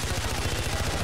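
Rapid automatic gunfire from the video game Far Cry 4, a steady loud burst of repeated shots running through the whole moment.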